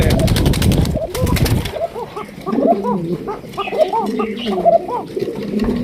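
A Sirazi pigeon coos repeatedly at a breeders' farm, a string of soft rounded calls following a loud burst of rustling noise at the start, with people talking in the background.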